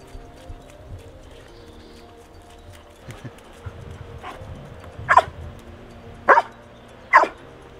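A farm dog barks after finding a hidden object, giving three sharp, loud barks spaced about a second apart, following a stretch of quiet outdoor shuffling.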